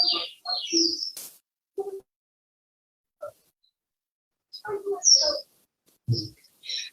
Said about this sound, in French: are they the Seychelles blue pigeons?